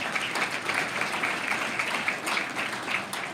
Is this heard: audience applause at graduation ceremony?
yes